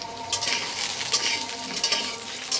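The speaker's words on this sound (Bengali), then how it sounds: "আলুগুলো একটু ভেজে নেব।" Potatoes fry in hot oil in a wok, giving a steady, close sizzle with bursts of crackle and occasional stirring scrapes throughout. The cooking is for vegetable khichuri, and nobody speaks.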